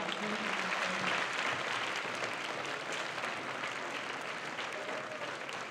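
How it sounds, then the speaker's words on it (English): A high school assembly audience in a gym applauds for school board members, a continuous moderately faint wash of many hands clapping with a voice briefly audible. "let's give them a round of applause"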